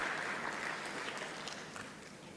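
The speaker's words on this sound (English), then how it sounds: "Very second applause for our very good panel right now." Applause from a conference audience for a panel at a geopolitics conference in Kampala, a faint, diffuse patter of clapping that slowly fades, heard from a distance.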